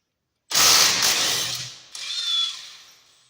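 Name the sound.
cracking off two brake bracket bolts on a Kia Forte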